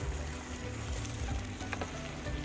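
Pinakbet vegetables are stirred in a pan, a steady loud sizzle of frying with scraping and clinking of the spoon against the pan, close up, no talking.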